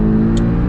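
Porsche Cayman GTS engine holding a loud, steady high-revving drone on the Nürburgring race track, heard from inside the car, sustained and unbroken with no talk.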